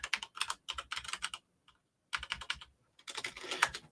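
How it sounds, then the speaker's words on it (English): A password typed on a computer keyboard: quick, close clusters of crisp key clicks in three bursts separated by short pauses. "I'm going to go ahead and log in here and type in my password."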